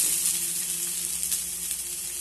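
Grated coconut frying in leftover ghee in a pan makes a steady, close, even sizzle and hiss throughout, with no voices.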